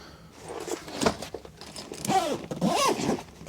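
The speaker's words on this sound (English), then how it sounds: "Bag zips up." Someone zips up a camera bag with a few quick, close zipper pulls in short bursts, mixed with scraping and rustling of the fabric.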